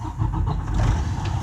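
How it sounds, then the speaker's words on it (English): A truck engine cranks and catches inside the cab during a pre-trip safe start, a steady, close, low rumble running throughout with no voices. "Crank up the engine."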